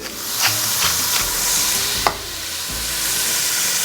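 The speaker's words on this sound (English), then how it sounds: "We're gonna get these into our pot, saute them until they're tender." Baby carrots and onion sautéing in a soup pot, giving a steady close sizzle with a few sharp stirring scrapes and clicks throughout, no voices.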